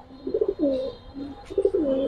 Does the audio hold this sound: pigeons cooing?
yes